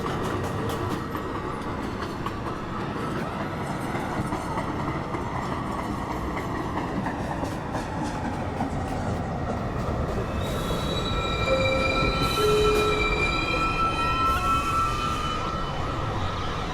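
An R62 New York subway 1 train running steadily with a loud continuous rumble, its wheels squealing in long high-pitched tones as it rounds a curve, close and enveloping.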